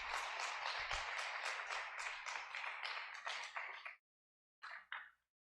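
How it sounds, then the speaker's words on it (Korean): Applause and clapping from a church congregation welcoming a deacon to the front, a steady burst of many hands for about four seconds that stops abruptly, followed by a couple of brief scattered claps. "박수로 한번 격려해 주시고 맞이해 주시기 바랍니다"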